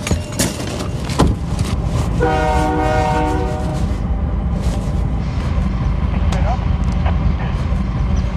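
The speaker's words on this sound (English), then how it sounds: "This is the train that's coming in from Nogales right now." A freight train arriving from Nogales rumbles close by, and a loud train horn sounds for about a second. Steady rolling clatter fills the rest, with a few knocks and some voices.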